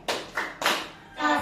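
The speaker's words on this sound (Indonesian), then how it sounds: "Tepuk tangan dulu." A small group claps together in a short rhythmic pattern at an Indonesian school training session, three or four loud, close bursts of hand claps in quick succession.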